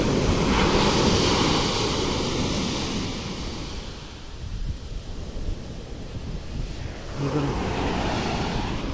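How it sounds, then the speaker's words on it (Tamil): Large ocean waves at Gopalpur beach in Odisha at night roar and wash ashore continuously, loud and close, with wind buffeting the microphone and a surge building again near the end. "எப்பா எவ்வளோ பெரிய வேவ் பாருங்க"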